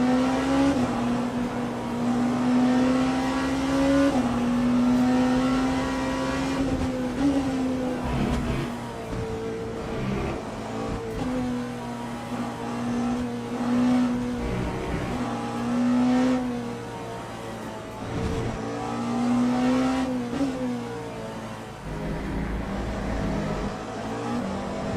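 Race cars lap Circuit of the Americas in the Le Mans Ultimate sim game, with a Porsche and a Ferrari in the field. Engines rev and shift continuously, pitch climbing and dropping as cars pass close and loud, with no talk.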